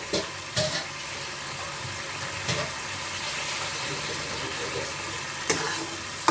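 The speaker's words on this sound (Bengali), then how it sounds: "একটু ভালো করে কষিয়ে নেবো এটা" Meat and cauliflower being stir-fried in a pan, with a steady sizzle under repeated spatula scrapes and clanks against the metal, close and fairly loud.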